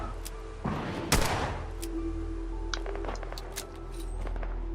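A pipe revolver rifle in the video game Fallout 4 fires a sharp, loud gunshot with a short echoing tail, followed by fainter clicks and ambient game sounds.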